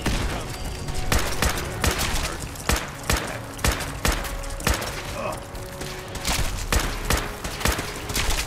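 Pistol fire in the video game Fallout 4, sharp shots cracking out every half second or so in a steady series, with game noise and a voice under them.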